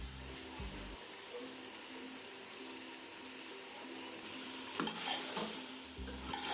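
A tomato mixture for chicken biryani cooking in a pot, a soft, quiet sizzle under repeated stirring strokes and a few metallic scrapes of the utensil against the pot.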